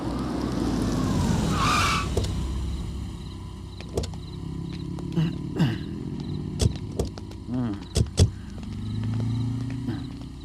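A police car brakes to a stop, opening with a long screeching skid and engine roar, followed by scattered clicks, thuds and small mechanical noises as it settles.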